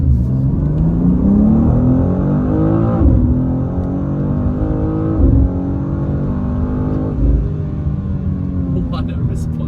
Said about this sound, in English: let's go for one final run on a full-on sports mode.